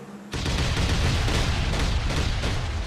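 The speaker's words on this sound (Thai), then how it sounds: "โอเคเพื่อนผมก็แปะระเบิดดัวๆเลย" Bombs planted on a house blowing up in the Last Island of Survival video game: after a short quiet lead-in, a sudden loud sustained roar of blasts and rumbling debris continues without pause.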